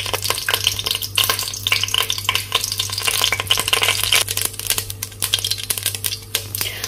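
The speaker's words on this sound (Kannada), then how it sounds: "ಸೋ ಸಾಸಿವೆ ಚೆನ್ನಾಗಿ ಚಟಪಟ ಅಂತ ಸೌಂಡ್ ಬಂದ ಮೇಲೆ ಜೀರಿಗೆ ಹಾಕ್ತಾ ಇದೀನಿ" Mustard seeds spluttering and popping in hot oil in a home kitchen pan, a dense steady crackle of sharp pops over a low hum, close and loud with no talking.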